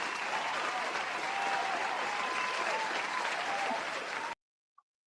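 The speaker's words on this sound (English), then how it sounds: "Give yourselves a round of applause" An audience at a live after-dark show breaks into steady, dense applause for about four seconds, loud and sustained, then cuts off abruptly, leaving near silence with one faint brief tick.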